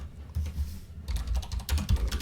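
Text being typed on a computer keyboard in Mathematica software, close, clicky keystrokes in two quick bursts separated by a short pause, with no talk over them.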